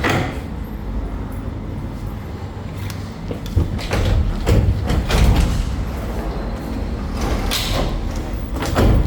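An apartment sliding door is tried and rattled in a rental unit, with a series of loud thumps and sliding scrapes spread across the span. Steady background noise runs underneath, and no one speaks.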